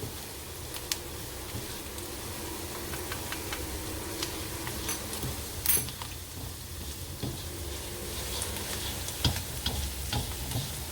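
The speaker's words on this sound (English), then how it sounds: "So I'm going to add this mixed herbs, a teaspoon of it into the garlic and onion mixture right now." Mixed herbs fry with garlic and onion in oil, giving a soft, steady sizzle with occasional small ticks and stirring clinks from the pan.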